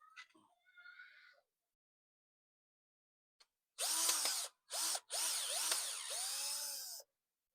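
A power drill whirs loudly in three bursts, the last one long and steady, after a short stretch of quiet voices and a silence.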